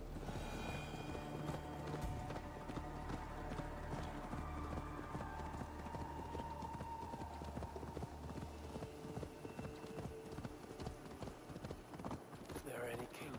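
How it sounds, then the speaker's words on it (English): Horse hooves clip-clop in Assassin's Creed Valhalla, a steady patter of hoofbeats running through the clip beneath game music, ambience and voices talking. "Why you got off your horse?"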